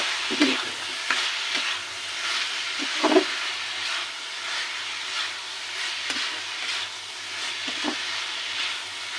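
Prawns, 400 grams of them, sizzle and hiss steadily in a hot pan, with occasional scraping stirs and soft clinks over the continuous frying noise.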